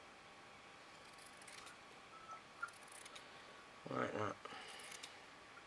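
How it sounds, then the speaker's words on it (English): Scissors snip around a paper top hat piece, a faint, quiet crunch of cutting with a brief louder burst near the end, under light talk. "just take the scissors and I'm just going to cut round it"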